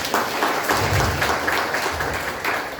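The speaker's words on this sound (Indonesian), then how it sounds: "Berikan tepuk tangan buat Tuhan dong." A church congregation at an Indonesian worship service claps together for God: a dense, steady patter of many hands at moderate volume for a few seconds, with no clear talk over it.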